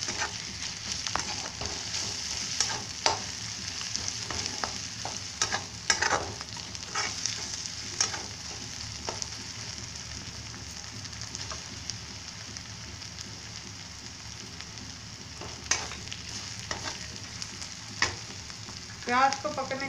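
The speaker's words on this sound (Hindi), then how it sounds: "प्याज को ज़्यादा लाल करना नहीं है, थोड़ी देर और भूनेंगे 5 मिनट तक।" Onions sizzle steadily in a pan of oil for a matar paneer sabzi, a continuous bright frying hiss with scattered clicks of stirring throughout.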